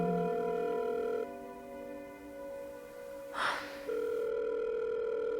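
A steady telephone tone hums on, briefly interrupted, with a short breathy burst in the middle before the tone returns.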